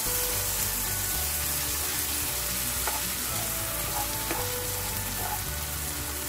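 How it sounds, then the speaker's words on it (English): Indian-style green beans cook in milk in a pan, giving a soft, steady bubbling sizzle that stays even throughout with no voices. "now I can add as much milk as is required to cook the beans"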